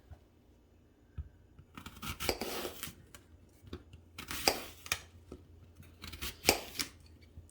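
A knife slices apples by hand on a board for a carrot apple slaw, giving quiet, irregular crisp cuts and scraping strokes in short bursts with pauses, close and alone.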